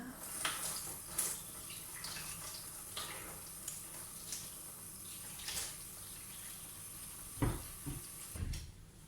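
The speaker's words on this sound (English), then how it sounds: "Rinse my hands now." Faint, steady running tap water as hands are rinsed in a home kitchen while cooking a chicken kebab, a soft continuous wash with a few small knocks and clatters nearby.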